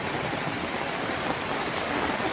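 Heavy rain pouring over a village house where water is pooling in the yard, a continuous close hiss of drops striking surfaces, even in loudness throughout, with no voices.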